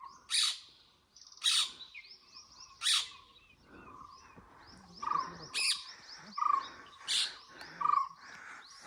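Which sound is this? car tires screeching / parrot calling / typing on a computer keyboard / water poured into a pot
parrot calling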